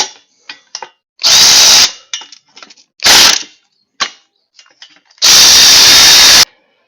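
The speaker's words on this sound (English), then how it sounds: "I'm going to take this bolt loose in the back" Three loud bursts from a power tool loosen a bolt at the back of a MoJack EZ lift, the longest run at the end, with short clanks and handling knocks between them.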